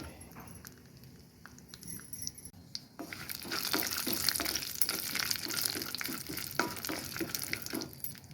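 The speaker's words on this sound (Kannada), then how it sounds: "ನಂತರ ಬಾದಾಮಿ ಹಾಗೂ ಗೋಡಂಬಿಯನ್ನು ಹಾಕಿ ಸ್ವಲ್ಪ ಹುರಿದುಕೊಳ್ಳಿ" Coconut pieces, almonds and cashews roast in a pan, the sizzle and crackle swelling after a quieter start, with scraping stirring sounds and no talking.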